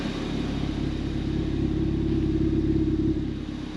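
Ford Fiesta ST200 petrol engine, running on three-year-old fuel, idles steadily with a smooth, continuous low rumble and a faint hum on top, close and constant with no voices.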